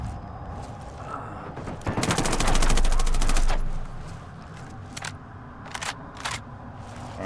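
Gunfire in the Ghost Recon Wildlands video game: a loud, rapid automatic burst lasting a couple of seconds, followed by scattered single shots, close.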